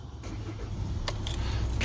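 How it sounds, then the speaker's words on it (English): A VW/Audi diesel car engine cranks and catches after a glow plug change, a steady low idle rumble building under faint clicks and a couple of brief mechanical rattles near the end. "Start the car."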